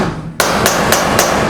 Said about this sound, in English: So you can't just hammer on it, so I'm just gonna get this chisel here